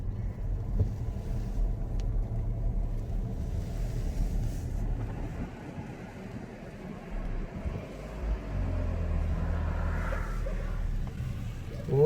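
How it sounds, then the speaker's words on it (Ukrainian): A company vehicle from Astra, a farm machinery dealer, pulls up at a farm during sowing season, its engine a steady low rumble throughout with some wind buffeting, swelling slightly toward the end as it draws near. "Тут автомобіль компанії Астра"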